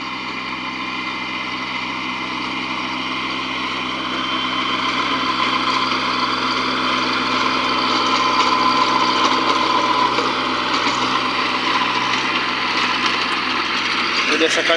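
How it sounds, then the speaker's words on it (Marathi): A small Kubota tractor drives a rotavator through farm field soil, its engine droning steadily and loudly throughout at close range with a constant mechanical hum that grows slightly louder midway. "हे बघा आमच्या शेतात रोटर चालू आहे छोट्या ट्रॅक्टरने"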